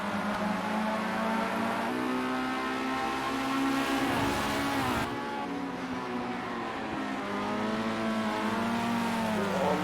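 A Formula Rookie race car in Project CARS at Brands Hatch screams close by, its engine pitch climbing through the gears, dipping briefly, then rising again in a loud, continuous whine.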